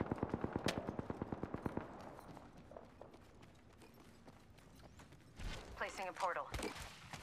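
Rapid automatic weapon fire from Apex Legends, a quick burst of evenly spaced shots at the start, followed by quieter game ambience and later some choppy voice-like chatter.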